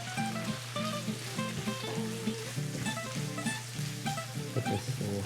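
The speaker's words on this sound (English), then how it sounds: "As it's sauteing, the onions and pancetta, celery, and the olive oil will all become transparent" Onions, pancetta and celery sauteing in olive oil, a steady close sizzle with light crackle, accompanied by a repeated musical pattern playing alongside.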